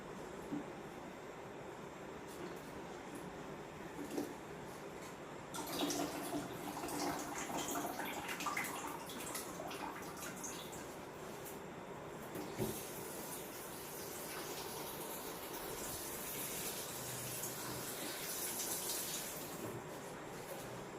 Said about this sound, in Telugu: ఆకుకూరలో కూడా వాటర్ ఉంటాయి కాబట్టి కొంచెం వాటర్ అయితే పోస్తున్నాను నేను